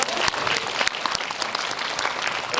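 Audience applause at a film premiere screening with the director and cast in a Seoul multiplex cinema hall, a dense, steady wash of clapping from a large crowd filling the whole moment without pause.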